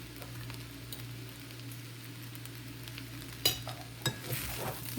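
Bottle gourd muthiya tossed in a pan with lemon and sugar, a low steady sizzle with occasional spoon scrapes and clinks that grow sharper toward the end.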